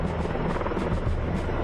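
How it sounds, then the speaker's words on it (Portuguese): Firefighting helicopters carrying water buckets roar steadily with rhythmic rotor chop, a dense, loud, continuous drone with no voices. "Junto com eles vieram os helicópteros com cestos de armazenamento de água."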